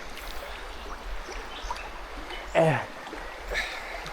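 A river current rushes steadily around a person wading in a deep pool. The constant hiss of water fills the background, with a brief splash and a voice talking over it.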